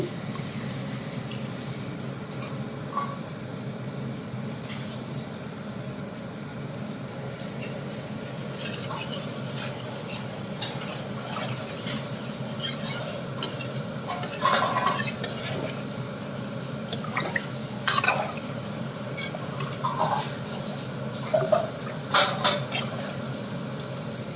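A spoon stirs a sizzling pot of country chicken curry as water is added, with occasional clinks against the pan and a soft steady simmer underneath.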